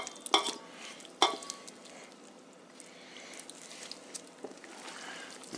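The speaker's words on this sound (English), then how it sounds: "Mix it up a bit with a spatula." Kimchi vegetables tossed and mixed with a spatula in a bowl: soft, faint rustling and stirring with a couple of sharp clicks near the start, quiet overall and without speech.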